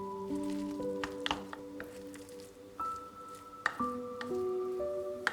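Warm seasoned sushi rice is stirred gently in a bowl, giving soft, faint squishing and sticky shuffling under a steady background hum and a few light clinks.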